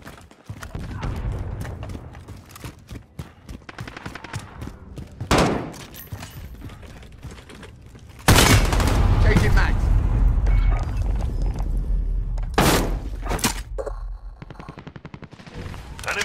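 Video game gunfire crackles in rapid bursts and single loud shots, mixed with automatic fire and sharp impacts, heavy in the second half, while voices call out over radio chatter.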